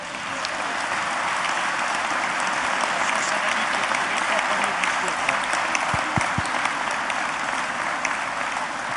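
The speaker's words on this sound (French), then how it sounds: "notre président Jean-François Copé, que vous pouvez applaudir très largement." Audience at a UMP public political meeting in the Rhône applauding loudly and steadily, a dense unbroken wash of clapping from many hands that fills the whole stretch.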